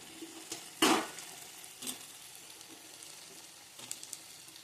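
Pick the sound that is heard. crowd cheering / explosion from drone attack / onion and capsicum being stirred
onion and capsicum being stirred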